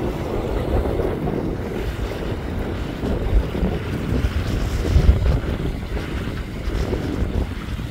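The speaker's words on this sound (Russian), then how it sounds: "его уносит страшным ветром" Strong wind buffets the microphone beside open reservoir water where a parachute is being blown away, a loud continuous roar with surging gusts and a wash of waves underneath, no voices.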